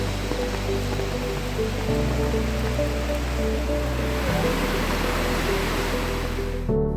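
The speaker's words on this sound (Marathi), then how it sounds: "धुवाधार पाऊस कोसळत असल्यामुळे आम्ही तिथे जाऊ शकत नाही" Heavy monsoon rain pours down at Harne beach in Dapoli on the Konkan coast, a dense, loud, unbroken roar of noise with a steady low hum running underneath.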